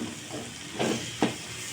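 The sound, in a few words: bitter gourd with shrimp frying in oil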